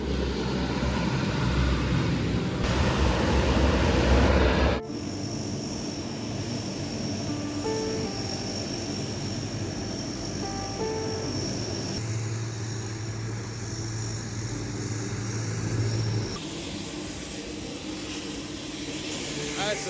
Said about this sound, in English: The plane's finally arriving from Manila.